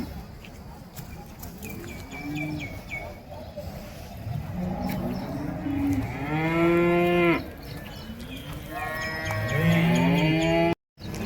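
Cattle at the Orappam cow market moo repeatedly, with several long, drawn-out calls close by. Busy market noise and people talking run underneath.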